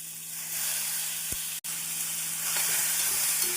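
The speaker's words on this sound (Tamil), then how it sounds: "பூண்டு நன்றாக வாசம் வரும் வரை வதக்கி அதனுடன் நாம் குடைமிளகாயை சேர்த்து" Capsicum sautéing in butter with garlic, an even hissing sizzle close to the pan, steady throughout with one momentary dropout, no voices.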